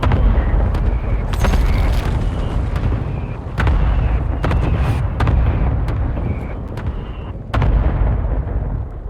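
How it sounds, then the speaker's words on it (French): Artillery strikes pound a battlefield in an online shooter game, a series of heavy booming explosions and loud bursts rolling one after another, close and dense throughout with sharp cracks layered on top. "attends, il y a une frappe."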